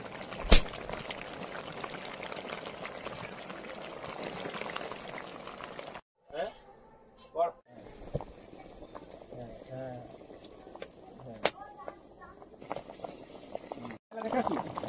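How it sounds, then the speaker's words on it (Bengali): Country chicken curry sizzles and bubbles in a pot at a friend's home, a dense steady frying hiss through the first six seconds, then quieter simmering bubbles with brief gaps and occasional clinks, nearby and fairly loud. "মাংস কষার সময় আওয়াজটা যে আসে খুব সুন্দর লাগে"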